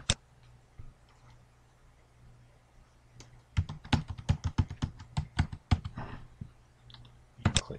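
Rapid bursts of computer keyboard typing while entering an SSH server address on Linux Mint, a couple of isolated clicks early, then a dense run of close, crisp keystrokes before pausing and a final quick flurry.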